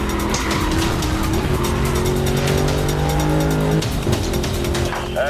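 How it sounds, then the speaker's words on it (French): Engines of cars, including a muscle car, roar and rev loudly in the racing game Need for Speed Rivals, with long tire squeals and skidding tones sweeping over a steady motor drone. "Et le son des véhicules qui est magnifique"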